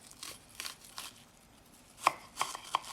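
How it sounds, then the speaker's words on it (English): A knife chops an onion finely on a cutting board while preparing Nigerian egusi soup: a handful of soft, crisp taps, spaced unevenly, close and fairly quiet. "go ahead and cut this up, get a better angle. And you want to cut it as fine as you can, as small as you can"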